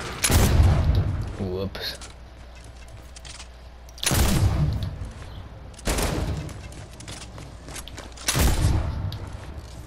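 Gunfire aimed at zombies in Fortnite, four separate loud booming shots spread several seconds apart, each decaying into a rumbling tail, with a voice speaking briefly in between.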